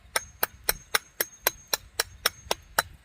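A hammer pecks at stone to shape it for drystack masonry columns, giving eleven sharp, evenly spaced strikes at a brisk steady rhythm, loud and close, with nothing else heard.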